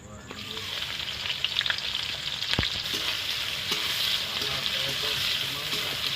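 A bowl of onions goes into hot oil in a karahi with cinnamon, whole cumin and chillies, giving a loud, steady sizzle and hiss that carries on unbroken.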